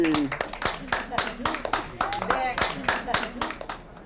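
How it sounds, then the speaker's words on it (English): A group of children claps in quick, uneven bursts while voices chatter and call out over the clapping. "Everybody clap."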